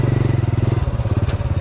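A motorcycle engine on a road in Bulacan, Philippines, close and steady, with a rapid pulsing throb that eases off slightly toward the end.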